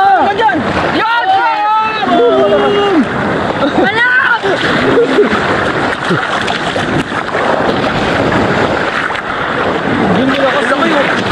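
Strong sea waves crash and rush loudly onto a beach at Tangalan, a continuous roaring wash with excited voices shouting over the surf.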